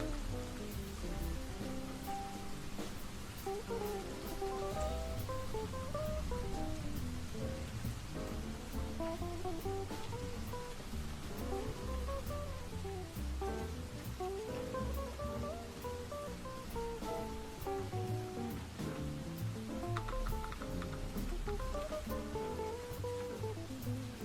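Steady rain ambience from a track hisses continuously, with soft music playing over it, forming a constant, even bed of sound with no talking.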